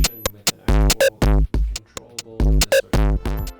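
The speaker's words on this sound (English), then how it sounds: "soft, and hard clipping distortion that sounds like this." An electric guitar runs through a digital soft and hard clipping distortion effect, playing short, choppy bursts of gritty, saturated chords and notes with abrupt stops between them, loud and close.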